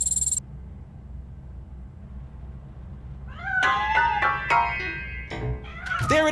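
A cat meows repeatedly in the video game RoboCop Rogue City, a string of close, clear cries that begins after a quiet stretch of low room hum.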